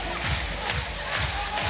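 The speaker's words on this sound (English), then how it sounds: "The crowd is loving it." Crowd at a women's 3x3 basketball final in Hong Kong, Azerbaijan against Poland, gives a continuous roar of cheering that rises and falls in waves, with rhythmic thumping like clapping or stamping underneath.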